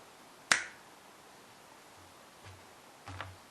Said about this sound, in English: All you can do is snap your fingers and you're ready for the next stage